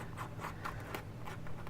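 A blade scratches and cuts through packaging on a tabletop in repeated short strokes, close and quiet under low background noise.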